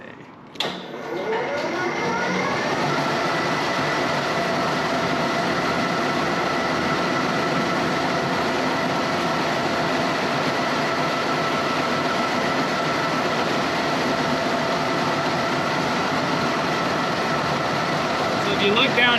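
Yankum Ropes rope-making machine running at full speed, horn gears driving the carriers: a dense, steady mechanical clatter and rattle that starts up and holds loud and continuous throughout.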